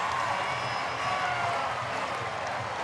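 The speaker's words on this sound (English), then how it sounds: "And now you hear that crowd." A college football stadium crowd roars steadily as fans rise after a special teams fumble recovery touchdown, Marshall against Old Dominion; a continuous, loud wash of cheering with no distinct voices.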